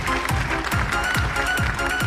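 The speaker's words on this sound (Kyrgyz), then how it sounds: "Бир кол чаап коюңуздар мына." Rhythmic audience clapping at a folk-pop stage concert, steady synchronized beats in time over a busy hall with music and crowd noise underneath.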